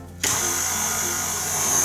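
A stand mixer fitted with a dough hook starts kneading bread dough, its motor kicking in abruptly and then running as a loud, steady whir.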